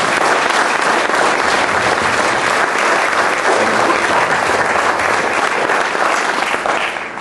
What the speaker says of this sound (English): we should all give Ann Becker a round of applause for doing that.